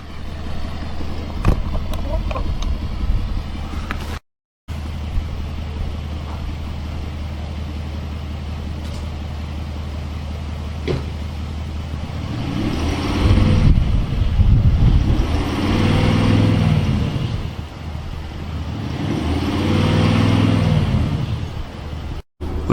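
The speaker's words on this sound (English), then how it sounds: "we're just going to run the car and see how it's running after the 5th oil change" Range Rover L322 engine idling and revving, showing white smoke, a wobble and a restricted-performance fault after repeated oil changes; a steady close rumble swells into three broad surging revs, with a brief dropout near the start.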